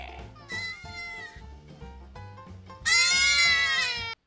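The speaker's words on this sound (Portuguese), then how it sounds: "E foi desse jeito que as cabras aprenderam a fazer o bé." Goats bleat in drawn-out, wavering cries, with a quieter call followed by a loud, strained bleat that holds for over a second.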